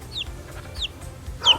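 Young chicks chirping and peeping close by, with three short high calls spread across the clip and the last one the loudest, over a low background rumble.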